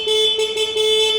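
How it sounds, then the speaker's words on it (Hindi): A Hero Splendor Xtech 2.0 motorcycle horn sounds in a loud, close, steady electric beep with a bright pitched tone that pulses slightly in strength across its short duration. "कुछ ऐसी इसकी हॉर्न आप देख पाओगे।"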